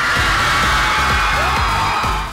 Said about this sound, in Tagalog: dumagundong na ang sigawan